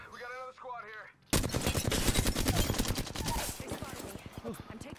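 Rapid bursts of automatic gunfire in the battle royale shooter Apex Legends, loud and close, crackling in dense volleys for several seconds after a brief voice at the start.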